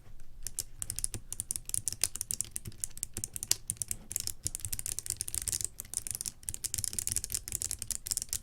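Continuous fast typing on a TaoBao 96-key keyboard fitted with Box Navy switches, dense clacky keystrokes in an even rapid rhythm, close and fairly quiet, with no talking.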